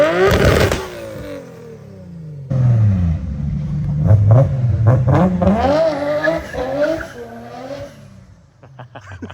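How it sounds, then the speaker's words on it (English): Nissan Skyline R34 GT-R V-Spec II engine revs hard, loud and close, with rising and falling sweeps, a long sustained climb in the middle and crackling as it settles at the end. "It's dyno time now, so we're gonna see how much horsepower this thing is pushing out."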